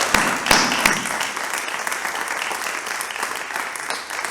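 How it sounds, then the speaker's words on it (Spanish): Strong, sustained applause from a conference audience closing a lecture, a thick continuous roar of clapping with a few sharp nearby claps at the start, fading slightly toward the end. "le despedimos ahora mismo esta conferencia con un fuerte aplauso"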